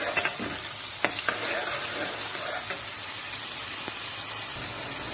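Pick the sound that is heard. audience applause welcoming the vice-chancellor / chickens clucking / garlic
garlic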